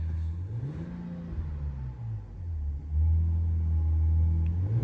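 A RAM 1500 pickup with a non-V8 engine and an aftermarket Flowmaster 818196 muffler revs up and settles several times, a deep throaty exhaust rumble, close and loud, ending in a sustained heavy drone.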